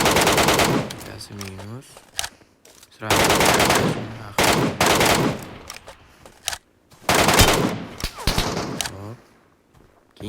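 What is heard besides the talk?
machine gun fire in a video game shootout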